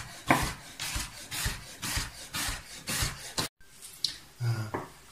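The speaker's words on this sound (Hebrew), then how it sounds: "את הבשר יש להשתדל לחתוך דק." A knife slices meat thinly on a cutting board while preparing Tajik qurutob, making a rhythmic series of close, scraping strokes, roughly one every half second.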